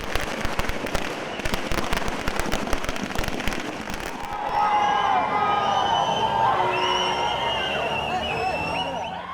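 Firecrackers set off by fans outside a cinema theatre at a film's first show: a dense, rapid string of sharp crackling pops for several seconds, then a sustained roar of crowd noise, whistles and traffic.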